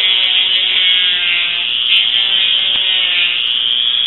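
A rotating tool cuts through a plastic clothes security tag with a loud, steady, unbroken rasping whine. The grinding holds at an even level for the whole stretch, with no pauses.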